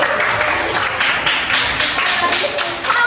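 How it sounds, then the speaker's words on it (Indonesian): A classroom of primary school pupils applauding together, a dense burst of many hands clapping close by that continues for about three seconds, with some voices mixed in. "tepuk tangan buat 5C"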